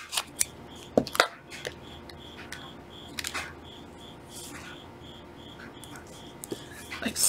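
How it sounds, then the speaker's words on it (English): Scissors snip through the paper of an XXL tea sachet in a few sharp, close cuts, separated by quieter handling and rustling. "I'm going to cut one in half"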